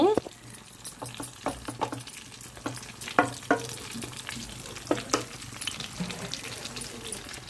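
Stuffed bitter gourds fry and sizzle in a pan on low heat, a soft steady crackle broken by clinks and scrapes of stirring, with occasional quiet speech over it.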